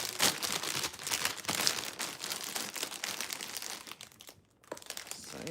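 Wrapping paper and tape handled around a gift box, producing steady close crinkling and rustling with brief tearing, a short pause, then more handling.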